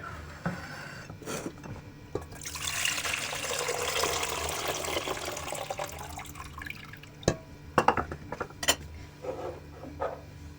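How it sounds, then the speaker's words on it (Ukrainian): Pickle brine pours steadily into a pot with a rushing splash that swells then tapers into drips and small clinks, close and moderately loud. "І розсіл зливаю у каструлю."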